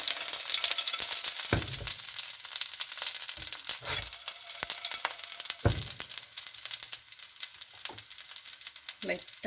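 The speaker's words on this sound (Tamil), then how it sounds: "கடுகு பொறிஞ்சதும் பூண்டு போட்டுக்கலாம்" Garlic fries in hot oil after mustard seeds have spluttered, giving a loud, continuous hiss and sizzle broken by a few low knocks and clatters nearby.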